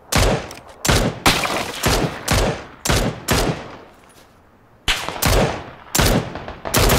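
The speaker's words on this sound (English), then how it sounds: "Okay, I'm being shot at now." Gunfire in PUBG comes in loud, close bursts of sharp shots, several volleys in a row with one short pause between them and no talking.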